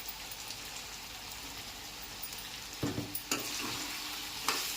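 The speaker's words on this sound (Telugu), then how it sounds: "బాగా కలుపుకొని చిన్నలో పెట్టుకొని బాగా వేగనివ్వండి" Chicken seasoned with chilli powder and salt sizzles steadily in a pan with a soft, even hiss, broken by a few louder scraping strokes of stirring near the end.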